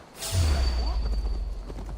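A horse in the game Assassin's Creed Valhalla, its hooves thudding and clip-clopping close by in a short burst that starts abruptly and carries on over low game ambience.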